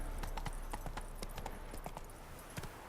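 Horse hooves clip-clopping on the ground in The Witcher 3, a faint irregular patter of steps under game ambience and a low background hum.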